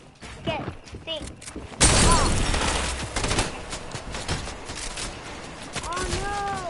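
Gunfire in the video game Fortnite, a loud burst of rapid shots at about two seconds followed by scattered shots and impacts, with people talking over parts of it.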